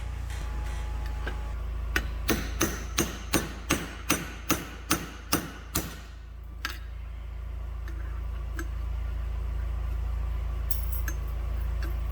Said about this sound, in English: tap it around with a little shock of a hammer, and off it will come